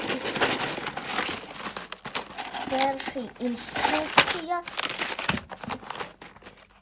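LEGO City police motorcycle set's packaging is opened by hand, with plastic crinkling, rustling and small clicks running under a child's and an adult's close talk.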